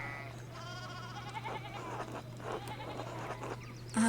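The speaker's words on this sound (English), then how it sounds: "One of the fence rails fell and the sheep started hopping it." In the video game Pentiment, farm sheep bleat several times after hopping a fallen fence rail, set against a steady low hum and soft ambient game sounds.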